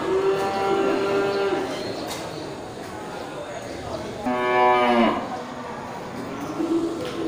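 Cattle, including a Simmental, moo at a busy livestock market ahead of Eid al-Adha: two long, loud lowing calls rise over constant crowd chatter and someone talking nearby.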